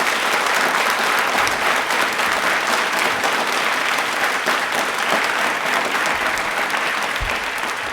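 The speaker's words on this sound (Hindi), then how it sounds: "तालियां प्लीज एक बार जोरदार बजाएं प्लीज।" An audience at an Indian Railways quiz programme claps loudly and continuously, a thick, unbroken roar of applause that holds steady throughout.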